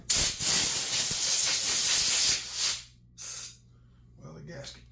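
Compressed air from a shop air hose blasts loudly for about two and a half seconds while cleaning a Jonsered 2050 chainsaw, followed by two shorter, fainter bursts of hissing air.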